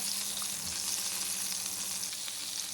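Chicken frying in oil over medium-high heat for a wedding-style roast, producing a loud, even, hissing sizzle close by with a faint stir or two, no voices.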